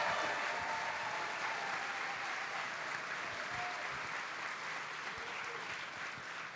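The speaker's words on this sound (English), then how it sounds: "please join me in clapping once more for these two amazing people" Sustained applause from a festival audience at a live comedy talk event, steady clapping filling the room throughout without any speech.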